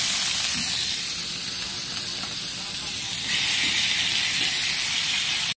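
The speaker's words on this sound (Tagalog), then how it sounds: "Piprituhin ko yung chicken." Chicken pieces frying in a pan of hot oil, a steady close sizzle and hiss that swells louder partway through, with faint clinks underneath.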